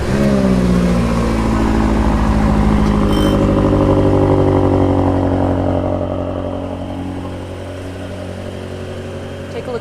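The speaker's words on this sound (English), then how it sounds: "we're about to start up the world's most expensive series production BMW" A BMW M8 engine roars loudly and steadily with deep revving, then eases off and settles lower toward the end.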